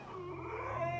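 A dog gives a short, close howl with a wavering, rising pitch, lasting about a second with no talking over it.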